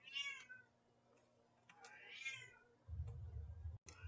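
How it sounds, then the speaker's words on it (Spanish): A house cat meowing close by, two drawn-out rising meows a couple of seconds apart, followed by soft handling rustle and a brief click. "¿Qué estaban escuchando cómo me maullaba mi gatuna?"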